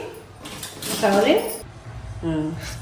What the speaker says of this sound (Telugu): స్టవ్ మీద కళాయి పెట్టి